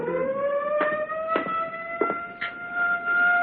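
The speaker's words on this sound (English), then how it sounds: "This is the governor. Turn off the siren." A steady wailing siren with bright harmonic tones holds at one pitch, briefly broken by a few short clanks, with no voices present.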